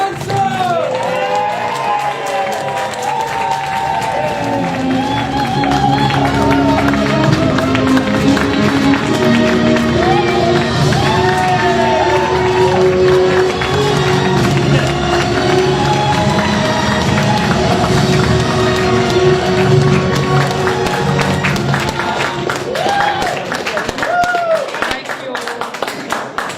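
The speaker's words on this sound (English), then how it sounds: "So let me have a big round of applause to your feet for Deputy Leader Jayda Fransen." A large crowd at a political speech event applauds and cheers at length, a sustained roar of clapping and shouts that swells and holds for nearly half a minute, with voices calling out within it.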